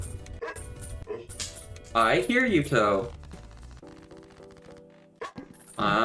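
A dog named Toby barks and yips in short bursts nearby while someone talks over a game's background music.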